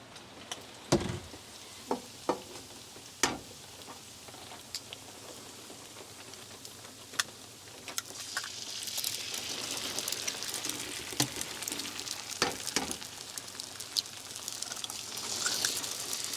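Three eggs sizzling in a frying pan: a few sharp taps and clicks at first, then a steady spitting hiss that swells and carries on to the end, with scattered pops.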